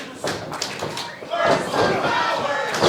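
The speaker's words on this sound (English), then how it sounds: "Crowd shouting purple power" Wrestling arena crowd at an NWA Powerrr show chanting "purple power", loud rhythmic group shouting that swells midway, mixed with thuds from the ring and a commentator talking over it.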